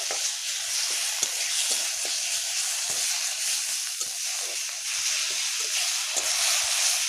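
Chili paste and onion paste frying with tomatoes in a pan give a steady, close sizzle and hiss, with occasional soft stirring scrapes and no talking.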